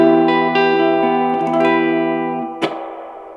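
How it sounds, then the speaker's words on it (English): An electric guitar played through a Supro Amulet amp with the reverb turned fully up rings out in sustained chords, the notes blooming and decaying in a long wash, followed by a sharp picked attack that trails off. "So you can dime the reverb out."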